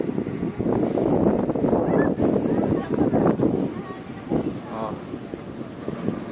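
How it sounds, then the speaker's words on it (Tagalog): Strong wind roars and buffets the microphone during a ride on the Marilaque highway, a continuous loud rushing with a muffled voice now and then underneath. "Lakas ng hangin mga idol."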